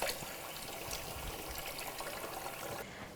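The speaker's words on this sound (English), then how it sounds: "I can wash my hands first before I get them all in the salt." Tap water runs and splashes steadily over hands at a kitchen sink, a continuous close trickling wash with no talk, cutting off just before the end.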